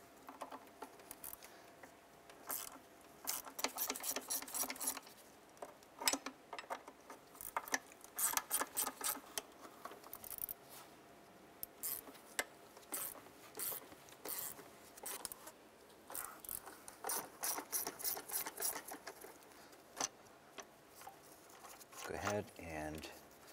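An 8 mm deep socket on a ratchet removes throttle body bolts on a 2005-2010 Jeep Grand Cherokee, rapid quiet clicking bursts repeated with short pauses, close but soft, with a voice talking over parts.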